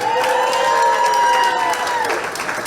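Audience applause and cheering fill a gala hall, a dense steady clapping with a few whoops that holds loud for most of the stretch and eases slightly near the end.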